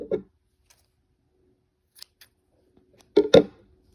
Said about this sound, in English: You are going to cut your yarn.